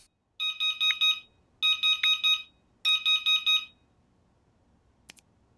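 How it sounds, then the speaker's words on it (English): An in-game alarm in Fall of Porcupine beeps in three loud, bright bursts, each of four quick pulses with short gaps between, then falls quiet apart from a faint click near the end. "That's an alarm."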